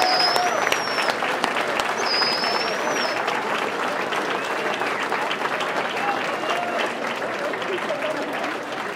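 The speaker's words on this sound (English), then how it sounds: "Please give them another round of applause" Sustained applause from a large crowd at an election victory speech, steady and loud throughout with scattered cheers and whistles mixed in.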